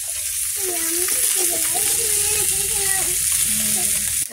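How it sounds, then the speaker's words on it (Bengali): Fish frying in a pan gives a steady, close, continuous sizzle and hiss throughout, with a voice faintly audible underneath. "মাছগুলো ভাজা হয়ে গেছে"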